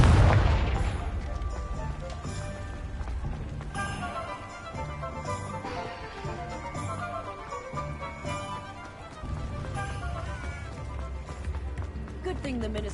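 A Confringo blasting spell going off in Hogwarts Legacy, with an opening booming burst that fades under busy game music and effects, and a voice talking throughout.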